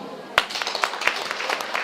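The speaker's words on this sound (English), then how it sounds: "Hands of applause for her." A studio audience breaks into applause for Rahma on a live talk show, a few sharp claps at first that swell into a light, steady patter.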